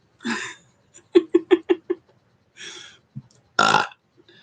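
A run of burps: a drawn-out belch, then five quick short burps in rhythm, another long one, a small grunt and a final loud belch, close and alone.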